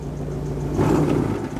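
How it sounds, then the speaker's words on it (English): A 1957 DeSoto Firedome Hemi V8 runs steadily at idle with a low exhaust rumble, then briefly swells louder in a short rev before settling back. "That sounds like a good Hemi."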